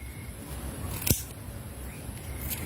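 A single crisp snip of scissors cutting through spiny amaranth (kulitis) stems, close and brief against quiet background hiss.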